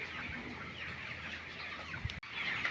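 Chickens cluck in a steady, busy chorus on a farm with sheds, with several birds close by and a brief knock partway through.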